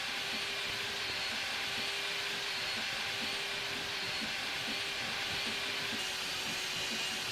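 Sawmill saw cutting logs in Liminal Industries, a continuous hissing, whirring drone with a steady tone and faint rhythmic low pulses throughout, no talk.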